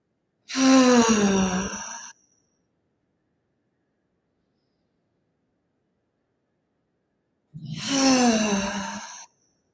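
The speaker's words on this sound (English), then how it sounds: "Deep breath in and out." Two slow, deep breaths in and out during a guided Reiki meditation, each a soft airy rush of about two seconds, separated by a long silence.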